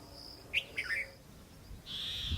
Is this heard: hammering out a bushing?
no